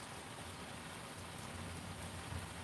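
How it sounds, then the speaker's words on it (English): A rain shower falls outside as a soft, steady hiss of drops on surfaces, faint and unbroken, with no voices. "as you can see we're getting our lovely rain shower, which we kind of need the rain right now"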